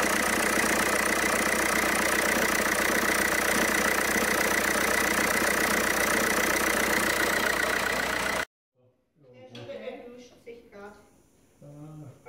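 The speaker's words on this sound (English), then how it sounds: "Eurovan belt tensioner is rattling with the alternator one-way clutch and speed." A Volkswagen Eurovan engine idles with a rattling belt tensioner and alternator one-way clutch, a loud steady mechanical clatter up close that cuts off abruptly partway through, after which a person talks.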